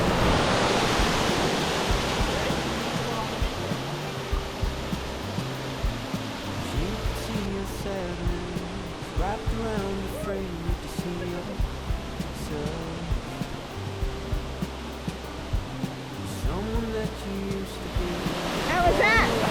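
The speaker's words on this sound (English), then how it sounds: "Found a spot where he can swim under the waterfall" A waterfall pours into a strong river current, a loud, continuous roar of rushing water that fills the whole stretch while people shout and talk over it near the microphone.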